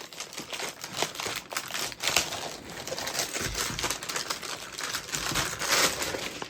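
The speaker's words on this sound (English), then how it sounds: "So let's get this all unwrapped here." Plastic packaging around a SteelSeries Apex Pro Gen 3 gaming keyboard crinkles and rustles steadily at close range, with sharper crackles scattered throughout as it is unwrapped, and no voices.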